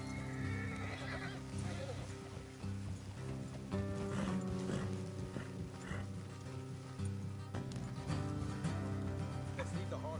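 Horses clip-clop along in Red Dead Redemption 2 gameplay, with occasional snorts and whinnies, over a busy background of ambient noise and music.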